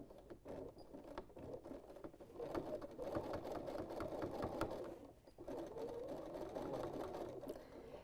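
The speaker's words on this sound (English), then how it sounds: "If your machine really just refuses to make bar tacks, you could do them by hand" A sewing machine stitches bar tacks on a jeans zipper fly, with a fast, steady mechanical patter running in bursts with brief pauses, close and clear.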